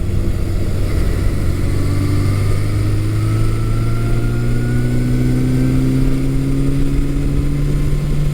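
A 1982 Suzuki GS750E motorcycle engine accelerates on a test ride, its loud steady drone climbing smoothly in pitch as it pulls cleanly through the revs, with rushing wind noise over it.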